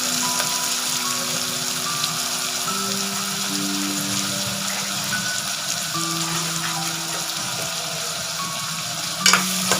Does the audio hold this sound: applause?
no